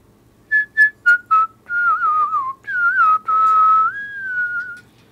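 A person whistles a Carnatic melody alone, opening with several short staccato notes, then sliding into longer sustained, ornamented phrases with bends, clear and close.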